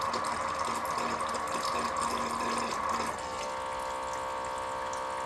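Water runs and gurgles through the pump of a Letpot LPH Max 4-in-1 hydroponics system during setup, a steady close wash of flow that abruptly settles into a quieter, even hum partway through.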